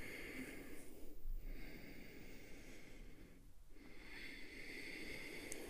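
Ujjayi yoga breathing made with a slight constriction at the back of the throat, a soft, steady, wave-like hiss of slow inhales and exhales, close but faint.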